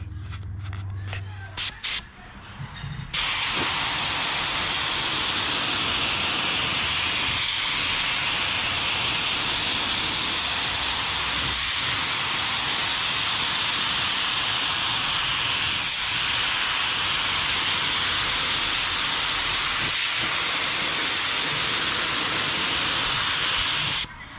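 Spray gun laying the first paint coat on a 1972 Chevelle, a loud, steady hiss of atomized paint running almost continuously after a few clicks and short starts, close to the listener.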